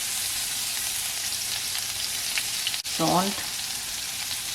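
Spices and vegetables sizzling and frying in a hot pan for a veg puff stuffing, a steady broadband hiss throughout with a brief stir or clatter near the end; a single spoken word briefly cuts in.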